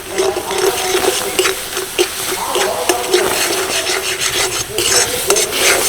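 A spoon stirs raw mango paste with sugar and a little food colouring in a dry kadai, making loud, close, repeated rhythmic scraping and rubbing strokes that run throughout.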